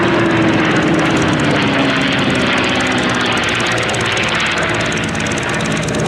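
P-51 Mustang fighter at an airshow, the propeller engine roaring loud and steady with a slowly shifting pitch as it passes close, with no voices.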